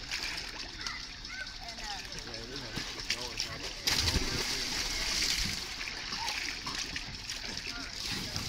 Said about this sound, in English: There really is like four or five of them jumping in there.